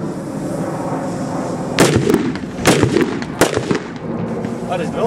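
Grazy Bang nitrate fireworks go off at a New Year's Eve celebration, with three loud, sharp blasts and some crackling debris over a constant outdoor rumble. Faint voices sound in the background.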